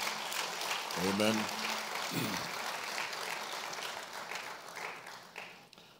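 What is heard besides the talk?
church congregation applauding the Second Lady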